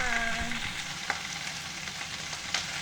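Kale and mushrooms stir-frying in a pan, with a steady close sizzle and occasional stirring scrapes throughout.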